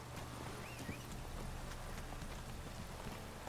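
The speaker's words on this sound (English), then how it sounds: "Let's call the horse." Hooves of the horse Roach gallop in The Witcher 3 video game, a steady rapid clip-clop under a constant ambient wash at low level, with no talk.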